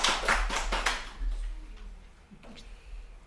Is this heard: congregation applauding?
yes